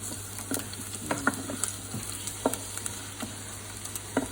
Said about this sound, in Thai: อันแรกก็ใส่กระเทียมสับลงไป กระเทียมสับเสร็จแล้ว คนนะคะ คน